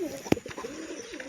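Pigeons coo softly nearby as they are about to be released to fly, one sharp flutter or tap and a few low murmuring calls.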